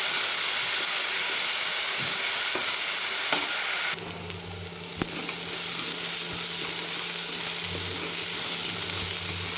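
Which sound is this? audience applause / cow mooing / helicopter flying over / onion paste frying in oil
onion paste frying in oil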